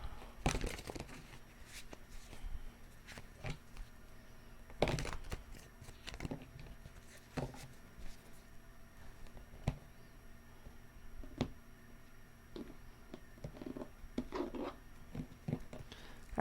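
Tarot cards being shuffled by hand in a quiet room, a soft run of papery riffles and flicks with occasional sharper slaps and taps, close and fairly faint, no talking.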